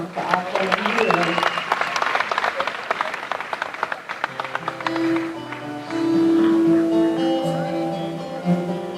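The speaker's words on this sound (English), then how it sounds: "Round of applause another one for our friend Irene." An awards show audience claps and cheers for singer Irene, with dense applause early that thins out while music and a voice carry on beneath it.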